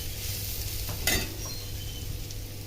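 Potatoes frying in a hot pan in a home kitchen, a steady close sizzle with a single brief scrape or stir partway through, no talking.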